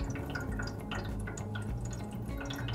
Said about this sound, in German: Es hört sich so an, als würde das Wasser in den Heizkörper plätschern.